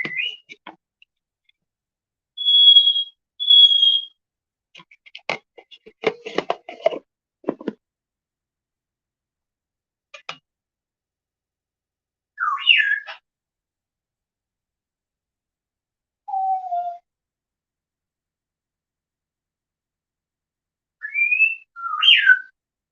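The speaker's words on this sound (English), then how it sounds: "do you hear my birds?" Small birds whistle in short, sparse bursts of clear high notes and chirps, separated by silence, with a few faint ticking sounds.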